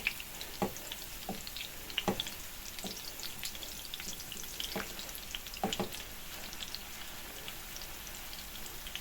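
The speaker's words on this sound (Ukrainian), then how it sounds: "Другу сторону смажу, не накриваючи кришечкою." Steady sizzling and spitting of fish cutlets frying in a pan, with sharp crackles and pops scattered through a constant hiss.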